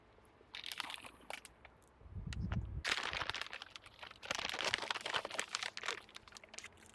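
Assorted plastic bags crinkle and crunch in close, loud bursts, with a brief low thump early on, then a steady stretch of rustling handling.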